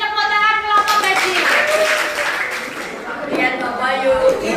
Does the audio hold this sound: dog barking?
no